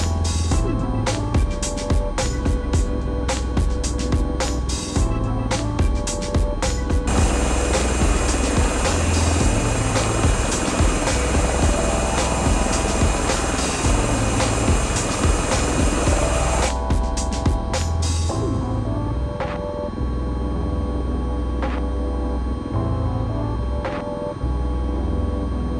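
An MV-22B Osprey tiltrotor in Microsoft Flight Simulator drones with a steady, loud rotor and engine roar, clattering and chopping at first, then a smoother whine in the middle before the choppy beat returns.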